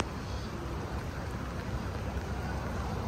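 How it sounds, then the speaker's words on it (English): Light rain falling outdoors as a steady, soft hiss of drops, even and continuous throughout with no talking. "It's died down some of the rain,"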